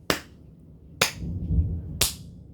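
Three sharp hand claps spaced about a second apart, close and crisp, with a low rustle between them and no voices.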